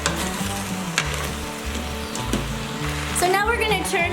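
Food sizzling and frying in an Instant Pot on the sauté setting while potato soup is being made, a steady crackle under talk that carries on throughout.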